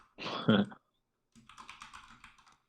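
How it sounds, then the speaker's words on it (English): Light, rapid keystrokes on a computer keyboard during live coding of a web app, a short run of quick, even taps following a brief louder burst and a pause. "For now, I'm just going to type in light gray."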